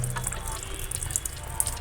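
Water pours steadily into a washing machine drum as it fills, a soft continuous rushing with faint splashes, low and even throughout with no talk.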